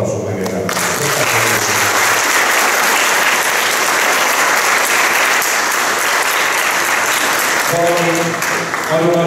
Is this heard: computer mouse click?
no